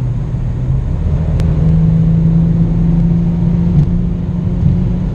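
An Audi RS4 cruising at high speed on the German Autobahn, its engine a loud, steady low drone with wind and road rumble filling the cabin, heard up close without speech.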